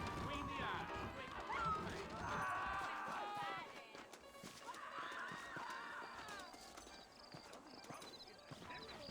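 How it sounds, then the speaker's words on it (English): Horses clop along at a steady trot in Red Dead Redemption, in the New Austin frontier town, with hooves beating rhythmically under talking voices, snorts and a few whinnies. "I got the horses saddled up and ready out front."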